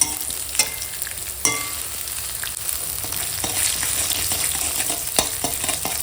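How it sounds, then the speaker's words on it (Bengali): Fenugreek seeds frying in a little oil, a steady close sizzle with several sharp spatula knocks and scrapes against the pan, no voices. "মেথিটা একটুখানি তেলেতে ভেজে নিই আগে"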